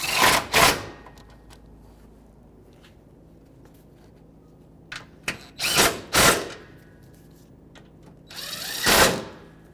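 A power drill runs in short bursts tightening the radiator support bracket bolts on a 2013-2018 Toyota RAV4, several brief whirring pulses separated by quiet pauses and small clanks.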